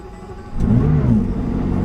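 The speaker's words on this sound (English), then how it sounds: "Jump in, engine start." A McLaren engine fires up, its low rumble swelling suddenly about halfway through and then holding a steady, loud idle close by.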